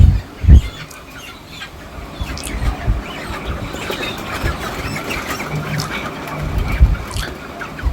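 Thirty-day-old broiler chickens crowd a poultry farm during a sale while being loaded onto vehicles, with overlapping clucks and chirps under dull thumps and handling bumps, loud and close throughout.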